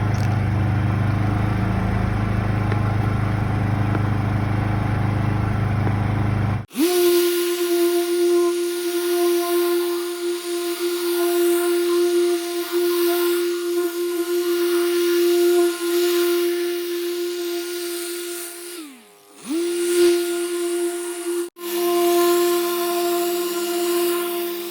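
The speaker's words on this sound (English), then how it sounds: "So we're gonna polish the whole vehicle, take all the imperfections out." A machine polisher works a white car's paint with scratch and swirl remover, a steady close motor whine that dips briefly twice, after a noisy rushing opening.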